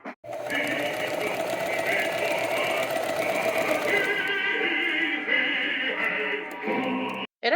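A sewing machine stitches a vest in a long, steady, close-up whir with a slight shift in pitch midway, then stops briefly before a final short burst; a voice appears to speak over part of it.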